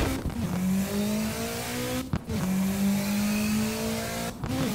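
A project car in the Assetto Corsa racing game, played in VR, drones along with a steady engine note that rises in pitch through two long gear pulls, broken by brief shift gaps, loud and continuous with no talking.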